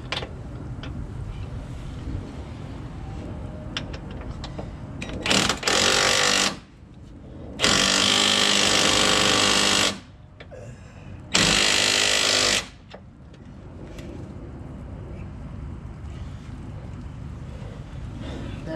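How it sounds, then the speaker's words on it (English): An impact wrench loosens 21 mm and 24 mm front suspension nuts on a 1999 Dodge Ram during a shock and wheel bearing job. It fires in three loud, sustained bursts, the middle one longest, over quieter garage background noise. "Hit this with the impact."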